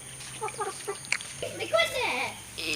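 A backyard chicken that had recently been slightly ill clucks in short, close bursts, with a person talking nearby and some rustling around it.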